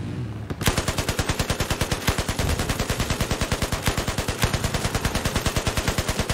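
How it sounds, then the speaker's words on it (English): Sustained automatic gunfire in Battlefield 4, a fast, even stream of loud close shots rattling without pause for several seconds. "Oh, we're getting shot at behind us."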